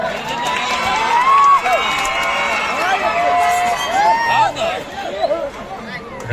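Lively crowd at a village kabaddi match between Soragaon and Galagali, cheering and applauding steadily for the Soragaon team, with shouting and an announcer's voice over a dense, continuous roar.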